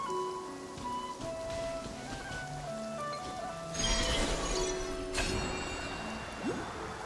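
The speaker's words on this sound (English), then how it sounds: "It always rains when I go on an adventure." Steady rain falls in the Genshin Impact video game, a soft continuous patter under gentle melodic music, swelling briefly louder midway before settling back.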